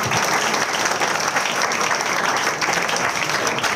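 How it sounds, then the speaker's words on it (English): An audience applauds contestants at a co-founder pitching event, steady dense clapping from a room of people holding at an even level throughout. "a round of applause to all of you guys"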